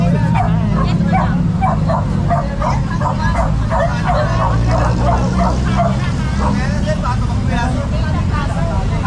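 Dogs bark and yip repeatedly over loud, continuous talking and traffic noise during a street clearing operation, the barks close and frequent across the whole stretch.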